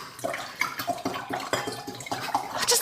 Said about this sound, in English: I'm going to pour some water now